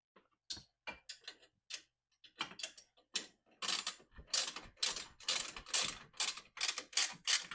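Bolts being tightened with a ratchet while fitting an upper door onto a Cfmoto 950 Trail, giving bursts of quick clicking and ratcheting that grow busier and more continuous toward the end, close up with no talking.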